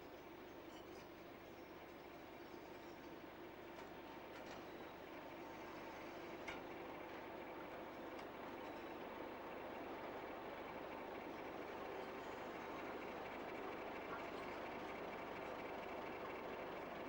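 Class 50 diesel locomotives run along the railway in 1991, a faint, steady rumble of engine and wheels on track with occasional clicks, building slightly louder over the run, no voices.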